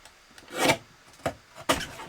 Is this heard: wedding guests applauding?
no